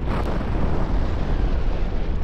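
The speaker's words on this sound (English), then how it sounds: "And that blew the whole thing apart." Airship guns fire and a large explosion rips through a Garry's Mod battle, a dense, sustained roaring blast filling the whole stretch with broad rumble.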